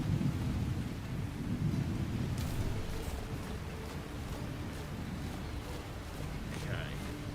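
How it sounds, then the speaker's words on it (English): A thunderstorm in the video game Lightyear Frontier: a low, steady rumble of thunder over the constant hiss of rain, moderately loud and unbroken. "First time seeing a thunderstorm on this planet."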